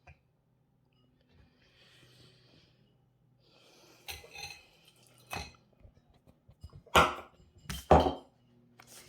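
Chopped ingredients for slow-cooker marmalade chicken land in a bowl in a quiet kitchen, heard as a few close, sharp clattering knocks and scrapes spaced over several seconds.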